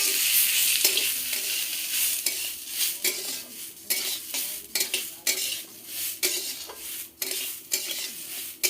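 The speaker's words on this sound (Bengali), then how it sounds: "চালটা ঘিয়ে ভাজা হয়ে গেছে" Washed Gobindobhog rice fries in ghee in a pot for khichuri, with close sizzling broken by repeated rhythmic scrapes and clinks of a spoon stirring the grains against the metal.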